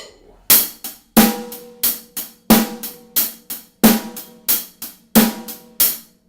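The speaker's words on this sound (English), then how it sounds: "The ostinato or system I would like to use is 8 notes on the hi-hat" A drum kit plays a steady rock groove, even hi-hat eighth notes with a sharp snare crack on the backbeats, close and loud, no talking.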